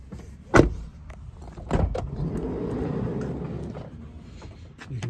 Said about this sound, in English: side door just slides back.